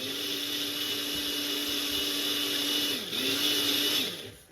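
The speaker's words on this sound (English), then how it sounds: "Bring our little ninja bullet over here. And we're just gonna puree it." A Ninja Bullet blender purees strawberries, its motor a loud, steady whine that briefly drops and recovers near three seconds before winding down at the end; no voices.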